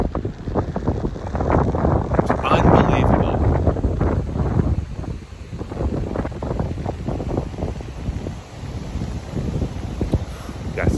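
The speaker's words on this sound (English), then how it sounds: "Super windy." Strong wind in Norway buffets the microphone in constant heavy gusts, a loud roaring rumble that never lets up.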